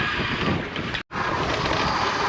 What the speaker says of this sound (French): Alors le vent est très chaud, il nous vient de la terre